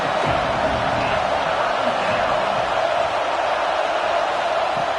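Home crowd at a college football game, UNLV at #13 USC, roars in a steady, dense wash of cheering that fills the stadium evenly from start to finish with no break.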